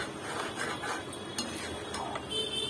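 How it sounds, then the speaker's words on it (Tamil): Egg podimas stirred in a pan, a spatula scraping and clinking against the metal in irregular taps over a low background sizzle, fairly quiet, no talking. "அடி பிடிக்காம கிண்டணும். கிண்டிக்கிட்டே இருக்கணும்"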